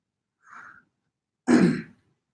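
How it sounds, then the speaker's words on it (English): A faint short sniff followed by a louder, sharper nasal sniffle, two quick isolated breaths with silence around them. "He's sniffling."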